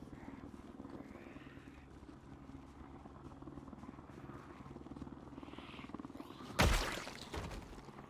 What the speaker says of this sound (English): And the guy drives off in his helicopter.